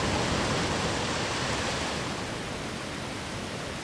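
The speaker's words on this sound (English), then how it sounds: "The controller likes to rumble a lot during this cutscene to signify the waves." Broadband rushing water from waves and whirlpools in a Valkyrie Profile cutscene, a dense, loud, continuous roar that eases slightly over time with no voices.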